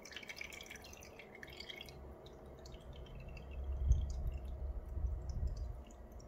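Soft, irregular drips of displaced water falling into a catch container, quiet against a faint background hum, with a few heavier plops near the end.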